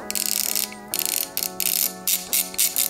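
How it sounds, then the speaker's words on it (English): A 100-tooth ratchet, used on a Toyota Land Cruiser 1FZ-FE engine teardown, clicks in fast, fine buzzing bursts close by, several short runs separated by brief pauses, with no voices. "I picked up these new 100 tooth ratchets and I'm obsessed with how they sound."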